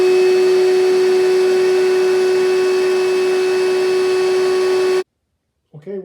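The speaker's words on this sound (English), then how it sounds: "Using a full-size vacuum cleaner, I'm going to vacuum for 10 minutes" A full-size household vacuum cleaner running steadily on power from a solar generator, a loud constant motor drone with a strong steady whine that cuts off abruptly near the end, followed by a brief voice.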